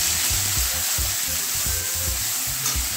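Onion and chilli paste hits hot mustard oil seasoned with a dried red chilli and cumin, giving a loud, steady sizzle with repeated stirring scrapes, close up and alone.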